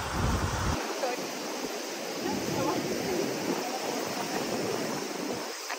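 Sea waves break on a shore in rural Shizuoka, Japan, making a continuous loud broadband roar and wash throughout, with some wind buffeting on the microphone.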